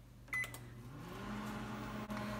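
Microwave oven on its popcorn setting: a short beep from the control panel, then a low steady hum as it starts running, quiet and close with a faint click near the end.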